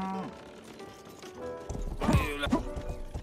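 Horse hooves and a neigh in the western video game Rustler, a quiet stretch giving way to clopping steps and a brief whinny near the end, with no talking.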